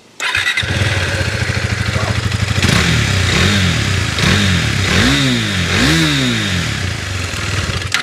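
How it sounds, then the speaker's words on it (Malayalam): A KTM Duke 390 on its stock exhaust starts up and idles with a close, steady thump, then gets several quick throttle blips that rise and fall in pitch before settling back to idle. "ഇതാണ് വണ്ടിയുടെ സ്റ്റോക്ക് വരുന്ന എക്സോസ്റ്റിൻ്റെ സൗണ്ട് കേട്ടോ"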